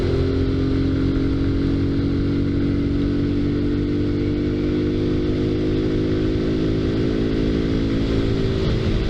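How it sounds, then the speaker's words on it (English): A 2019 Kawasaki Z125 motorcycle engine runs steadily at a low, even idle, with a smooth hum that does not change for the whole stretch and no voices. "this bike is like extremely quiet. It's so crazy how quiet it is compared to the other bikes."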